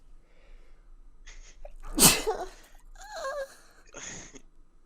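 A single loud, explosive sneeze, preceded by a short sharp intake of breath and followed by a drawn-out moaning vocal sound, no words.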